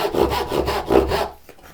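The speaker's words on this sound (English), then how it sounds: "I'm going to make the kerf go along this way up towards the veneer line" A hand saw cuts a kerf in wood for half-blind dovetails: two long rasping strokes, close and loud, then a fainter short stroke as the saw eases off.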